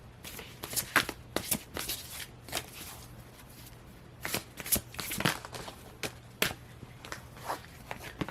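Tarot cards being shuffled by hand, a run of crisp riffling bursts and soft flicks in an irregular rhythm, close and fairly quiet over a faint steady hum, with no talking.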